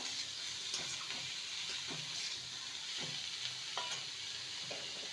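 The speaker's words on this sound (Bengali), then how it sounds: "এবারে মেথি শাকগুলো দিয়ে দেব ভালো করে নেড়ে নেব" Fenugreek leaves and potatoes stir-fried together make a gentle, steady sizzle with repeated spatula scrapes and knocks at an uneven pace, heard up close with no talking.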